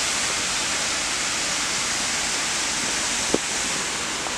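Water rushes steadily through the Narmada canal at Karai Dam, a loud, continuous broadband roar with no break, plus one brief knock near the end.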